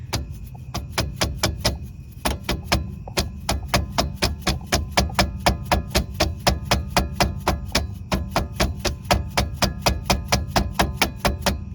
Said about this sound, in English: And we'll smack it in with a hammer.